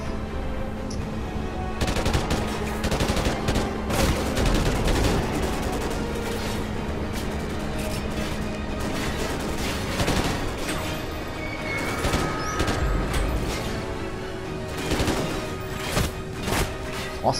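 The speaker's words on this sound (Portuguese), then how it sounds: "da onde sai esses tiros" Rapid bursts of Call of Duty: Ghosts gunfire crackle continuously, with automatic fire and scattered single shots layered over a steady background hum.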